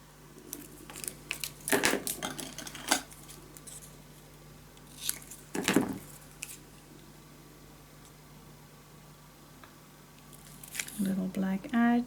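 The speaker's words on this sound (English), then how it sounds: "Let's cut this so it fits nice." Scissors cut a paper piece for a Halloween pop-up scrapbook album, making a few close snips and crinkles spaced out, then quieter handling and a rustle at the end.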